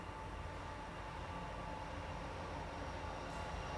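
A train passes close by, giving a steady, dense rumble of wheels and rail noise that holds at an even loudness throughout, with no talk over it.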